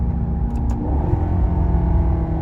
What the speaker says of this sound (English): here's the downshift with a paddle